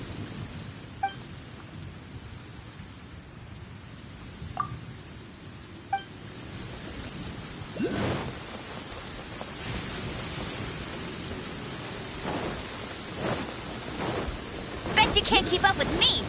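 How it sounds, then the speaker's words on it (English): Steady rain hiss in a video game, with scattered brief chimes and tones over the constant wash and a few low thumps, ending in a bright jingling flourish. "It's raining! Now my uniform will get all wet."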